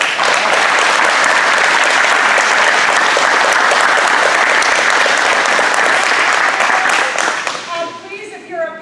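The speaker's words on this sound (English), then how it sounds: "one last round of applause" Students are applauded by a large crowd at a corporate event, loud dense clapping that holds steady for several seconds and then thins out into scattered claps at the end.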